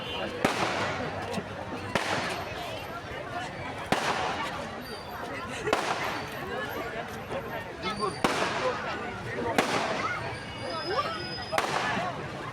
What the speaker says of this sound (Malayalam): ഇനി നമുക്ക് വെടിക്കെട്ടിൻ്റെ കാഴ്ചയിലേക്ക് കടക്കാം.